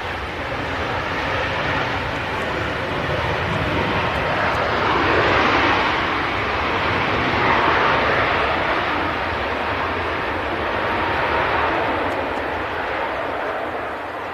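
Ryanair airliner landing at Manchester Airport with a bounce, a loud continuous roar of engines and rushing air heard from a distance, steady throughout with slight swells, and faint voices underneath.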